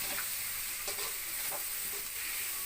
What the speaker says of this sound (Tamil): வெங்காயமும் தக்காளியும் நல்லா கிளறி விடுங்க.